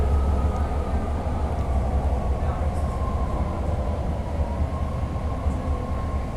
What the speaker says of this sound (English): So we're at the Ashby BART station